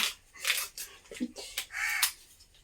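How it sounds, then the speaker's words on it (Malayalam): A crow caws several times in short harsh bursts, fairly close, with brief pauses between calls. "കാക്ക രാവിലെ വരെ ഇവിടെ വന്നിരുന്ന് കരയാൻ തുടങ്ങിയതാ"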